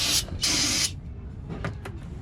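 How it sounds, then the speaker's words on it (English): Two quick bursts of spray cleaner hiss onto the differential housing of a Silverado during a differential cover job, short and close, followed by quieter handling sounds. "I'm gonna spray it down one more time."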